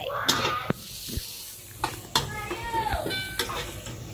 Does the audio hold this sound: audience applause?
no